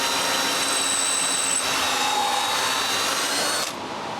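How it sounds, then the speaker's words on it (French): A power drill bores a small screw hole in wood, giving a steady close high whine for nearly four seconds before the motor eases off and the sound drops away. "J'en profite aussi pour percer un petit trou pour la vis."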